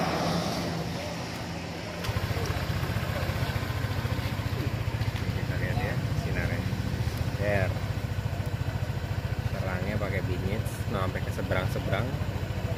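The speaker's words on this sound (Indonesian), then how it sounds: "motor nyalain dulu" A 2018 Honda PCX scooter engine starts up and settles into a steady, close idle that runs on continuously, with people talking over it in the workshop.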